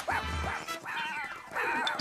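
A cartoon puppy gives a run of high yips and whimpering cries in three close bursts, fairly loud.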